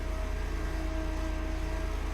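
Propeller aircraft engine droning steadily in a flight video game, a low, even, buzzing hum with a fast pulsing beat, close and constant.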